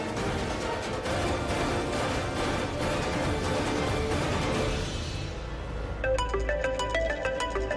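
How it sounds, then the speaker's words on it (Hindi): A bright electronic phone ringtone starts near the end, a repeating melodic pattern rising over a steady background of noisy sound. "पूरब का फोन?"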